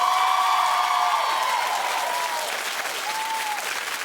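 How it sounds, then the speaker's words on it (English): A television studio audience claps in a dense, sustained burst that holds steady for a few seconds, with whoops and tonal cheering carried over the clapping. "Clap if you think that this is a fun outfit."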